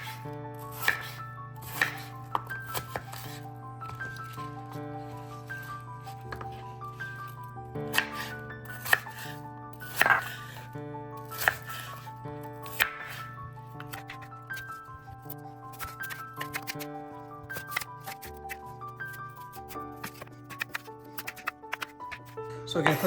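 A Honeycrisp apple being chopped on a cutting board, a run of crisp knife knocks at an uneven pace, fairly quiet, heard under a steady musical background.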